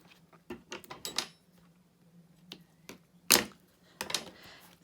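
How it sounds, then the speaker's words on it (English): Scissors snip craft tape off a card kit close to the microphone, giving a few sharp isolated clicks and cuts, one louder crisp snip near the end, amid quiet handling noises. "And then just nip it off with your scissors."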